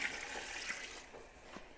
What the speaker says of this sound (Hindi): अब मैं इसमें डाल रही हूँ पानी